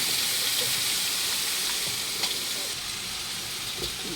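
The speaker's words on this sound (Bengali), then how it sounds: "পোলার জন্য যে মশলা কিশমিশ গরম মশলা তেজপাতা একটু ভেজে নেওয়া হলো" Raisins, garam masala and bay leaf fry for pulao, a close continuous sizzle and hiss with occasional small pops and stirring sounds, no talking.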